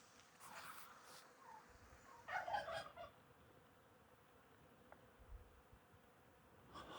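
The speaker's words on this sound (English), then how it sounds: "I hear bees." Bees buzz faintly outdoors in a quiet, low-level hum, with a few brief louder swells of buzzing near the microphone.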